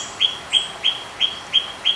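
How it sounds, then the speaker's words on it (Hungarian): A myna bird in Thailand repeats a sharp, high call six times at an even rhythm, loud and close, with no talk over it. "ez a baj a Mina madárral, hogy a legrosszabb pillanatban kezd el ordítani valahol"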